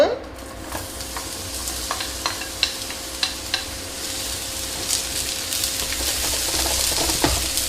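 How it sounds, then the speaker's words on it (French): Onion sautés in olive oil in a large frying pan over medium heat, a steady close sizzle punctuated by sharp scraping and tapping stirring strokes, growing slightly louder toward the end, no voices. "Je vais commencer par faire revenir l'oignon."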